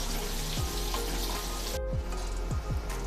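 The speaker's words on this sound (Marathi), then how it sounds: "तर लसूण आपल्याला छान असा खरपूस होईपर्यंत तेलामध्ये परतून घ्यायचा आहे" Garlic frying in hot oil in a pan for a village-style dry drumstick vegetable dish, a steady dense sizzle with a few light stirring scrapes, loud and close, with no voices.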